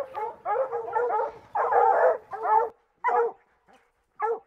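Tracking dogs bark at a mountain lion in the Colorado backcountry, a close run of loud, overlapping barks and yips that breaks into short separate bursts with quiet gaps toward the end.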